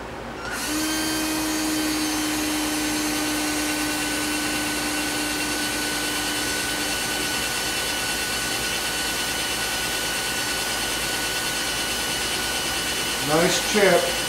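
A cordless drill boring into a 1990 Jeep Wrangler during a 4x4 actuator valve repair, a loud steady whine that runs close and unbroken for about thirteen seconds, with a brief voice near the end.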